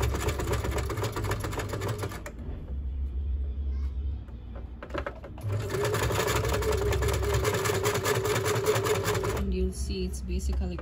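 A sewing machine runs a long basting stitch on bridal robe fabric, a fast mechanical whir in two bursts separated by a quieter pause.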